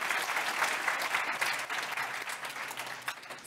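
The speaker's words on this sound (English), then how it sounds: "Just real quick round of applause." A conference audience at a Cosmos Hub talk gives a steady round of applause, dense and continuous clapping at moderate volume that holds for several seconds without talk.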